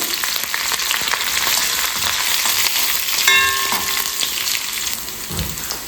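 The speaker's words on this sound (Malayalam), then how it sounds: "ചെറിയ ഉള്ളി ഇട്ടൊന്ന് മൂത്ത് കഴിഞ്ഞു നമുക്ക് നമ്മുടെ പച്ചമുളക്" Shallots and green chillies fry in hot oil, a steady dense sizzle running the whole time with brief scraping stirs and a short tonal clink partway through; no talking.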